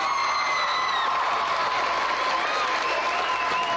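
High school assembly crowd applauding and cheering, dense sustained clapping with whoops and shouts mixed in, loud and continuous throughout.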